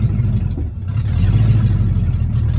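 A 1988 Ford Mustang GT engine idling loud and near with a deep rumble, then swelling as it revs, with a slight clatter and no voices.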